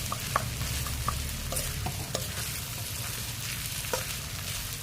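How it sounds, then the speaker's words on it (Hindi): Onions for chicken curry fry in a pan with a constant, dense sizzle, broken by sharp ticks and scrapes as they are stirred. "इसको भूनते रहेंगे 10 मिनट तक।"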